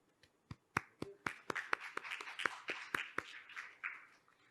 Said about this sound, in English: Please welcome him with a warm round of applause on the screen.